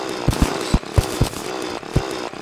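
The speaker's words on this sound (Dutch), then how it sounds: "Het eerste stukje doen we gewoon even met de boor. Gewoon recht naar beneden." A drill boring straight down in the Terraria video game, a loud buzzing whir with repeated sharp chopping bursts at an irregular pace.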